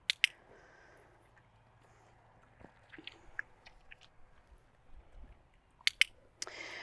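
A horse chews a single food reward during training to drink water, giving close, quiet, intermittent crunches and squishy bites in an otherwise still space.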